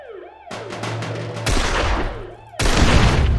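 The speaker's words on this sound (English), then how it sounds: "Wow, the shotgun's actually good at blowing it up." Shotgun blasts fired in the zombie game Zompiercer, with two heavy booming shots and a sharp report early on, each followed by a rumbling explosion and crackling debris, loud and close.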